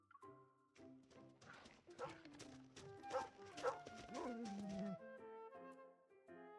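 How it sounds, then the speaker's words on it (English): Sled dogs bark and yip excitedly as they bound out from behind forest trees, with a rapid flurry of overlapping barks over a musical background. "several sled dogs leap out from behind the trees"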